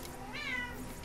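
A single cat meow, rising then falling, heard clearly over a low steady background hum, with no talking.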